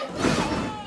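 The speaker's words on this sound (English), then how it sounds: "Backbreaker." A heavy wrestling backbreaker slam: one loud, dull thud of bodies hitting the ring, followed by a brief resonant rumble that fades quickly.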